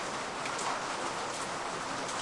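Steady rain hisses in a horror video game set in a kiosk, an even, dense wash of falling drops with no voices over it.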